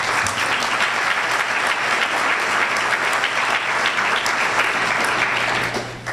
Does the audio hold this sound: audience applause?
yes